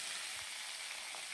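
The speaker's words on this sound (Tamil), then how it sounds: "இப்போது எண்ணெய் ஹீட் ஆனதும் சீரகம் போட்டு தாளிச்சுக்கோங்க" Cumin seeds sizzling in hot oil, a faint, steady hiss of frying with soft crackles throughout.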